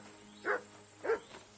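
A dog in the medieval game Kingdom Come: Deliverance II gives two short barks about half a second apart, followed by a fainter third yip, set against a quiet ambient background.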